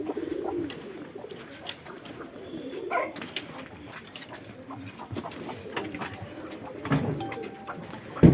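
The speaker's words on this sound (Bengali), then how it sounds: "অসংখ্য পরিমাণে কবুতর এখানে আমরা দেখতে পাচ্ছি প্রচুর পরিমাণে কবুতর এবং এগুলা বেশিরভাগই সবই পাকিস্তানি" A flock of Pakistani pigeons at a pigeon farm keeps up a continuous low cooing, with brief scattered bumps and rustles nearby and a faint dog bark at one point.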